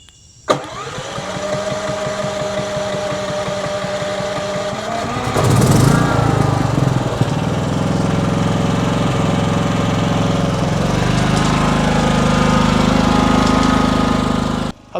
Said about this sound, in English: How cool is that, starting your generator from the remote?